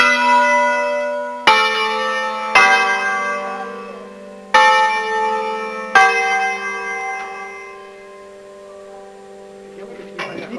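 Church bells rung full-circle in Occagno di Schignano, Lombardy, clang loudly in a series of sharp overlapping strikes, each leaving a long ringing hum that slowly fades toward the end.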